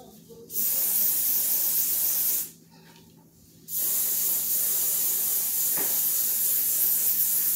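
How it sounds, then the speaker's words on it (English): Hairspray from an aerosol can, sprayed in two strong hissing bursts close to the microphone, a shorter one and then a longer one, separated by a brief quiet moment, with no talking. "hairspray that I use."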